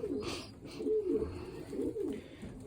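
Pigeons coo in a pigeon loft holding Arden and Janssen-type birds, with several close, rolling coos following one another in a steady, low rhythm and no talking.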